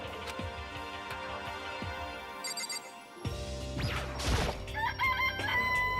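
A rooster crows in the Danganronpa video game: a loud, drawn-out cock-a-doodle-doo rising from a steady game soundtrack, with a sharp crash-like burst near the end.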